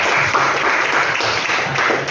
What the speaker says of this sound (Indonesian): tepuk tangan untuk Arnold